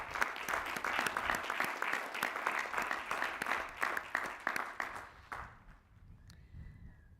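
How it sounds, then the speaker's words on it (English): At a graduate commencement ceremony, the audience applauds the new Doctors of Philosophy with brisk, rhythmic clapping from a sizable crowd that tapers off sharply near the end, leaving a quieter room. "Please recognize the 2021 Doctors of Philosophy"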